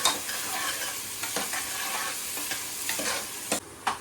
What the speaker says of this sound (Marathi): कांद्याला सोनेरी रंग येईपर्यंत त्याला आपण चांगला मिक्स करूया